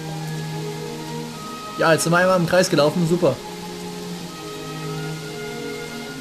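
Steady rain falls in the video game Gothic 3, a constant soft hiss with faint looping tones underneath, while someone talks briefly over it partway through.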